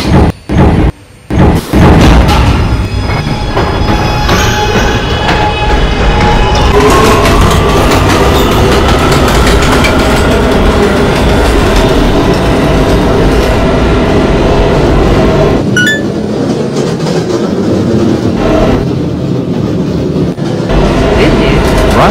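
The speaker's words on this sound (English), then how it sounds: "This is a 207th Street bound A train." A Roblox Transit City 3 A train made of R211 subway cars runs steadily and loudly, a continuous rumble and rail clatter with a motor whine rising partway through.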